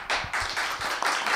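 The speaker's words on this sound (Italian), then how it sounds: "Che applauso." A studio audience applauds a line-dance teacher being welcomed on an Italian TV interview show, with dense, steady clapping in slightly pulsing waves that carries on through the whole short stretch.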